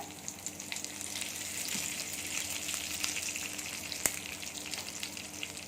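Steady sizzling and crackling of cumin, dried red chilies and curry leaves frying in hot oil for tomato chutney, with small pops and one sharp crack.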